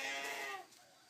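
Sheep bleating inside a sheep pen in a remote village, one fairly loud drawn-out call that fades away with no talk over it.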